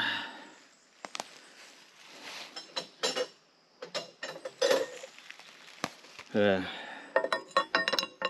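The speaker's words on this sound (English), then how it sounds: "Pull this pin out." A metal pin is pulled from an excavator bucket cylinder, producing a series of close, sharp metallic clinks, taps and scrapes in irregular bursts, with brief knocks between quieter gaps.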